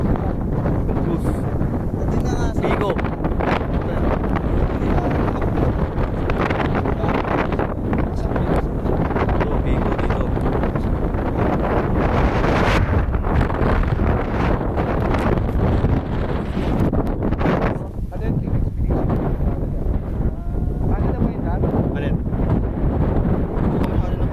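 Strong wind on Mount Marami buffets the microphone continuously, a loud roaring rumble with gusty bursts, and voices are faintly audible beneath it.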